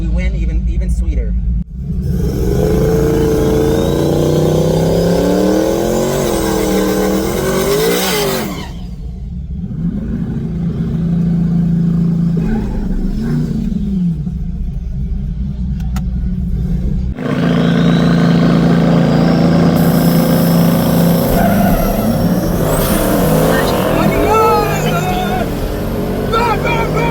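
Twin-turbo Chevrolet E-Ray on a no-prep drag strip in Texas, heavy engine roar rising and falling through acceleration runs with a brief lull, loud and close, with someone talking over it.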